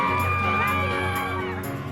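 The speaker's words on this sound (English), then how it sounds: "And bleachers filled with screaming fans." Fans in bleachers along the Golden Globes red carpet scream and cheer, a dense crowd roar with high shrieks layered over a steady low hum, continuous and fairly loud.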